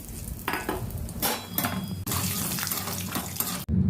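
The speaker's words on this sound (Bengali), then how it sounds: "এবার এই তেলে আমি কিছুটা বাদাম ভেজে নেব" Peanuts fry in hot white oil in a wok, giving a steady bright sizzle that swells in waves with stirring and is cut off by brief gaps, close and fairly loud, with no talk.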